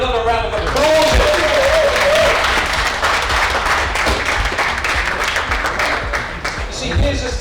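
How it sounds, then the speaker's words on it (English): At a talk on bitcoin as money, a voice speaks briefly before a full audience erupts into loud, continuous applause that holds steady for several seconds and then begins to thin out toward the end. "Give her another round of applause."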